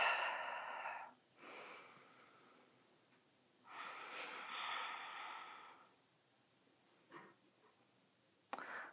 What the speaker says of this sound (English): 2 more nice deep breaths here.